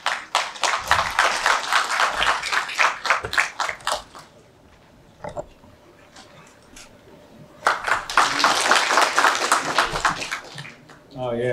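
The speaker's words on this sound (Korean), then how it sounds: "여러분 큰 박수로 모시겠습니다." A seated crowd at a Korean regional bodybuilding contest claps warmly for about four seconds, then again more loudly near the end. The applause is close, dense and crisp, with a quieter spoken stretch between the two bursts.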